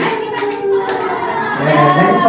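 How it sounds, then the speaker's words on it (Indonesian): Children in a primary school classroom clap their hands in a short burst of sharp, near slaps, mixed with young voices chattering and calling over them. "Beri tepuk tangan."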